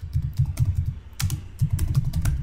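Quick, light keystrokes clatter on a computer keyboard in a steady burst, with a short pause midway before the typing picks up again, close and clear with no talking.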